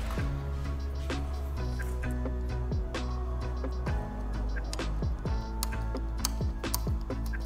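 The rebound adjuster on an Aprilia RS 660 suspension is turned, giving a series of small, close mechanical clicks scattered irregularly over a steady low hum.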